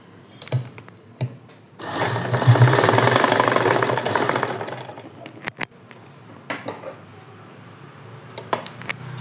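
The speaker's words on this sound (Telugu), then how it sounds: "ఇప్పుడు ఇక్కడి నుంచి ఇక్కడి వరకు ఈ స్టిచ్చింగ్ అనేది చేసేసుకోవాలి చూడండి" Sewing machine stitching fabric for a hanging invisible design, a steady whirring run of rapid stitches lasting a couple of seconds, framed by scattered clicks and handling knocks before and after.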